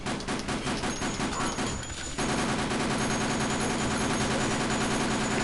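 Continuous machine-gun fire in Dead Rising, a steady rattling stream of rapid shots at close range with a brief dip near the middle before resuming.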